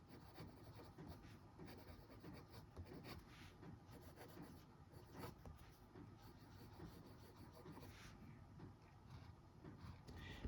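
A PENBBS 456 Sakura fountain pen with a fine steel nib writing on paper, giving a faint, continuous scratchy rasp with small strokes heard up close in a quiet room.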